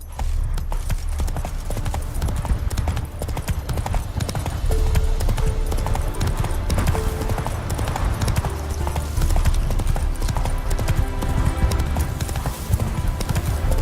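Horse hooves gallop steadily in The Witcher 3 game world, a continuous rapid clip-clop that stays loud and close throughout, layered over game ambience and a faint background music line.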